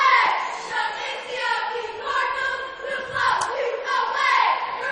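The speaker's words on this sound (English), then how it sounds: "See the NCOE Cardinal cheerleaders there opening with their cheer" NCOE Cardinal cheerleaders chant their opening cheer at a high school basketball regional semi-final, voices shouting in unison in a steady rhythmic cadence across the gym with crowd noise underneath.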